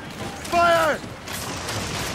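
Ship cannons in Assassin's Creed Rogue fire in a single loud, sharp burst with a brief metallic ring and rumble, then fade under ambient sea noise.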